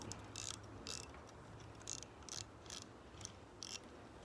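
Faint, evenly spaced ratcheting clicks as the cap is twisted back onto a fishing reel during cleaning and re-greasing, about nine crisp ticks in small pairs, close and quiet.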